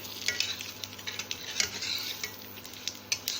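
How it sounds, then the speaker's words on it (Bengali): A bay leaf, a dried red chilli and whole cumin fry in a couple of spoons of oil, a faint, continuous crackling sizzle dotted with light ticking stirs of a spatula. "তেজপাতা, জিরে আর লঙ্কা আমার ভাজা ভাজা হয়ে গেছে।"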